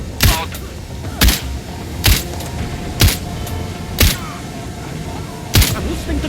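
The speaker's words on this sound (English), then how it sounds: "I'm listening to gunshots!" Six sharp gunshots from Sniper Ghost Warrior Contracts 2 crack out at uneven intervals of roughly one second over a low ambient rumble, each a loud, abrupt broadband burst with a brief tail.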